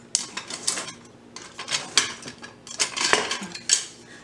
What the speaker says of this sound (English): You get something to kind of mix this around with.